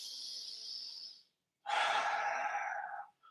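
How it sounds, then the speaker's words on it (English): A person draws a deep breath in through the body, a long airy inhalation, close and clear, following a softer breath out, with no talking. "when I breathe in"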